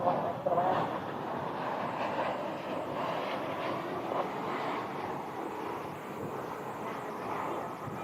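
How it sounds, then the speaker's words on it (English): Jet aircraft at a Dallas airport, a Boeing 747 departing one runway while an American 737 lands on the parallel one, give a steady, broad engine roar held at moderate distance throughout. "there's an American 737 that just landed 18 right as the 747 departs 18 left"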